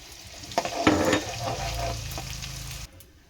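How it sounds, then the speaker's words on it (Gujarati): Edible gum fries in ghee, the oil sizzling steadily in a pan, with a few scraping stirs near the start before the crackle settles into a softer, even hiss. "આ રીતે બધું ગુંદર તળી લેશું આપણે"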